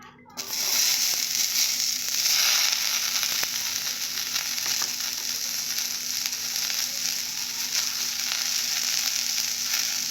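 Onions sizzling and frying steadily in a dry pan (kadai) after potatoes were fried in it, a loud continuous hiss with faint stirring scrapes, no talk.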